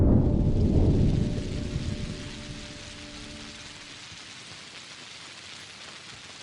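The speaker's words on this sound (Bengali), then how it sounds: "এই দেখো আবার বৃষ্টি শুরু হয়েছে।" Steady rain falls with a low rumble of thunder at the start, loud at first and then settling into a constant, softer patter for the rest.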